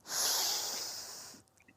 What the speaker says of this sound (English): Last time, breathing in.